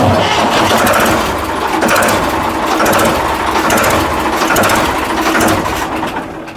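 A diesel Ford tractor engine chugs loudly nearby, settling into a steady rattling idle with a rhythmic throb.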